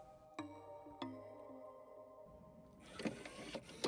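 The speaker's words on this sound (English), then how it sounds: "I can also hear the servos turning on" Servos in an arcade cabinet power on with a few sharp clicks and short motor whirs, followed by a brief burst of mechanical buzzing and rattling. All of it is faint and heard without any speech.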